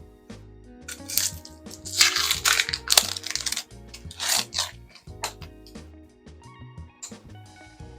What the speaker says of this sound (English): get that skin off of that onion